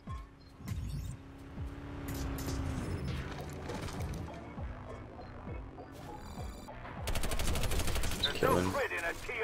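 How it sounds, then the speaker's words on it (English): Rapid gunfire bursts in a shooter video game, loud and dense with mechanical clatter and engine-like rumble, building to a heavy barrage near the end. "What was he shooting us with?"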